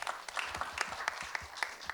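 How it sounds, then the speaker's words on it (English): Audience applause for panel guests at a wellness panel discussion, a short burst of steady mixed clapping from a seated crowd filling the whole moment. "let's have some round of applause to our guests"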